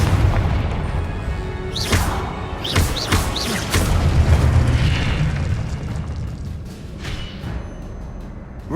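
A Confringo blasting spell going off in Hogwarts Legacy, heard as deep booming bursts with sharp pops and whooshing streaks, several impacts clustered in the first half over a steady game rumble.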